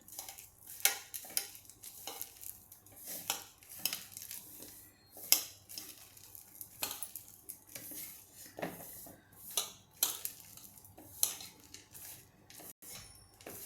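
Spoon stirring tamarind-jaggery chutney into a snack mixture in a bowl, a run of irregular close clinks and scrapes against the bowl, quiet between strokes, no voices.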